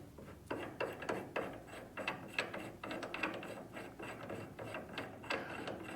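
A ratchet socket wrench clicks while turning a power steering gearbox bolt on a '57 Bel Air restomod, in a series of close, quiet, uneven ratcheting bursts with short pauses between strokes.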